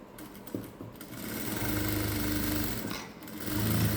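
A sewing machine stitches a pocket onto cigarette-style pants with a steady fast whirr that starts in short bursts and then runs continuously. It is close and moderately loud, with no talking.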